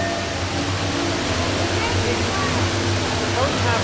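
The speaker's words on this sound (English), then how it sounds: "It's a waterfall?" Underground waterfall inside Ruby Falls cave, a dense, even rushing roar of falling water filling the space throughout, with voices talking over it.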